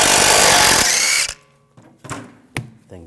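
An impact tool spins off the final wheel bolt on a 2006–2009 Audi S4 4.2L V8, one loud, close sustained whir for over a second, then quiet clanks of the bolt and wheel being handled.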